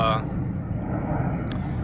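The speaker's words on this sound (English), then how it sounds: "sorry, there's a plane overhead." A plane passes overhead outdoors during a trampoline setup, a steady broad low rumble that stays even and moderately loud throughout, with a person talking briefly at the start.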